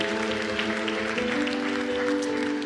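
An audience applauds Léana's family and friends as they approach the stage at a presentation; steady, close, dense clapping runs throughout beneath sustained tonal music.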